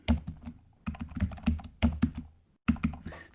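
A password being typed on a computer keyboard, quick clusters of close, crisp key taps in bursts separated by short pauses, fairly loud and alone.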